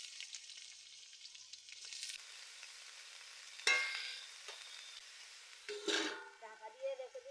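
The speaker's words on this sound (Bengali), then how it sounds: "কেটে রাখা ওলকপিগুলো তেলের উপর দিয়ে দিচ্ছি।" Kohlrabi sliced into hot oil with onion and green chili, a quiet background sizzle broken by two sharp, crackling bursts of frying as pieces hit the pan.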